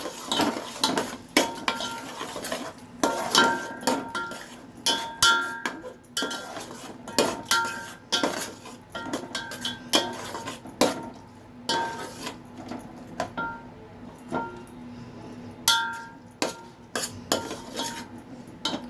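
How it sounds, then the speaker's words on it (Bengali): A spoon scrapes and clinks against a pot while paneer pulao with yogurt and a splash of water is stirred, giving repeated irregular metallic knocks and scrapes over a soft simmering hiss, close and with no talk. "দিয়ে এটাকে একটু ভালো করে নাড়াচাড়া করতে হবে, দইটা যেহেতু দেওয়া আছে"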